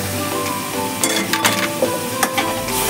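Masala paste for an egg curry sizzling in oil in a pan and stirred, a steady close frying hiss with spoon scrapes and clinks of the utensil against the pan.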